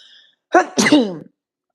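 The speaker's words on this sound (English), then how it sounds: "If I sneeze again, y'all excuse me" A single close, sharp sneeze with a quick inhale followed by a forceful burst, preceded by a faint high tone and then silence.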